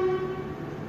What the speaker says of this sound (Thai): can you hear the train can you hear the train